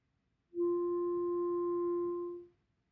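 A single clarinet G held as one steady, clean tone for about two seconds, with a clear start and a gentle release, alone with no talking.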